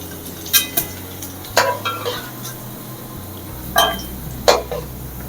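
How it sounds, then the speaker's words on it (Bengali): Potatoes with salt and turmeric fry in oil for a Bengali chicken curry, as a faint sizzle under four or five sharp metal clinks and scrapes of a spatula against the pan, without speech. "এবার আলুগুলো লাল লাল করে ভেজে নেব"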